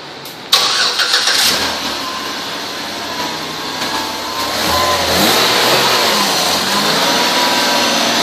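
A 2006 Chevrolet Impala LT with a 3.5-liter engine, automatic four-speed and 149,735 miles cranks and catches half a second in, then settles into a steady, loud idle with a slight rise in revs.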